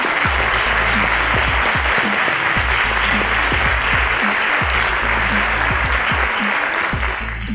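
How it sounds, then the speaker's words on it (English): Sustained loud applause fills a school quiz competition hall for both competing teams, with a dense, even clatter of clapping hands that carries on without a break for several seconds. "A round of applause for both the teams"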